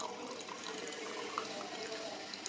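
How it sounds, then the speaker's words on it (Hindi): Tamarind pulp water is poured into a pot of Hyderabadi dal gosht made with chana dal and mutton, giving a steady, close, continuous splashing pour with no talk. "हम इसमें डालेंगे इमली का पल्प। तो यहाँ पर मैं 1 कप पानी"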